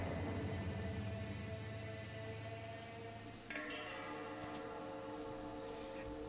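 A subway train from a video game trailer, set in a Japanese subway, rumbles steadily with a droning, horn-like tone, then shifts with a brief dip and a brighter screeching resonance as it keeps running.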